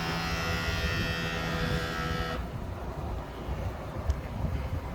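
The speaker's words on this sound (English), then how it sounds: "I gotta replace that step motor is what you're hearing." Entry step motor on a 2007 Fleetwood Tioga 31L motorhome, a steady electric whine with a buzzing edge that runs for a little over two seconds and then cuts off, leaving faint outdoor background noise.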